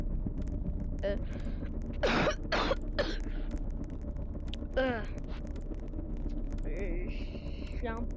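A sick woman coughing: several sharp, close coughs in quick succession, with a few other short throaty sounds and brief talk-like vocal bits over a low background hum.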